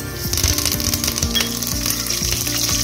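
Curry leaves drop into hot oil with cinnamon and cloves and sizzle loudly and continuously, a dense close frying hiss with steady crackling and a few low knocks from the pan.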